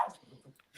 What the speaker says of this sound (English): just my dog.